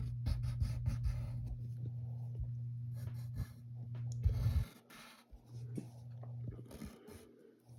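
A pencil scrapes over paper in short, repeated strokes while sketching half-oval feet on a cartoon bear, close and scratchy over a low steady hum, then it briefly pauses before resuming.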